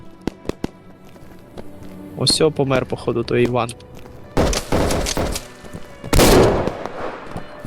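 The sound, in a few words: sniper rifle gunfire in video game Operation: Harsh Doorstop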